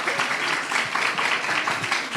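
An audience at a live event claps, a dense, moderately loud patter of applause that holds steady for a couple of seconds.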